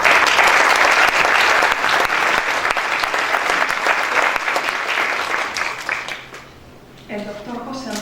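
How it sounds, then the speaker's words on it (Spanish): Audience applause at an architecture lecture honouring a speaker, a dense sustained round of clapping that fades out near the end as a voice begins over a quieter room. "Un aplauso para él."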